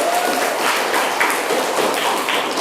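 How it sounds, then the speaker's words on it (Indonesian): Classroom applause from a group of students, a steady dense patter of clapping that fills the room throughout and stays at an even level. "Tepuk tangan untuk kita semua."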